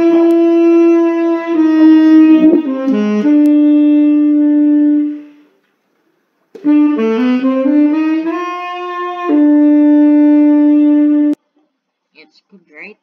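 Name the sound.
saxophone playing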